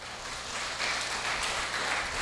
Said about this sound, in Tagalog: Bigyan po natin ng mas malakas na palakpak si Lord.